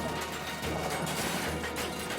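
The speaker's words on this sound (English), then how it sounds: "the truck smashed into the rubble, plunged off the viaduct into the ravine below" Train truck smashing into rubble and plunging off a viaduct, a loud crash effect with dense crunching, rattling debris and a heavy low rumble sustained across the whole stretch.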